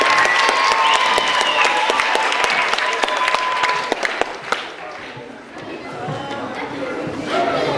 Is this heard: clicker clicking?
no